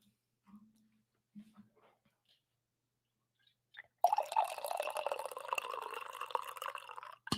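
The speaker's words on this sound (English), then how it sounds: "Did we get 3 coffee pours this morning?" Coffee being poured into a cup, a steady liquid trickle lasting about three seconds after a few faint clicks and soft knocks, close and fairly quiet with no talk over it.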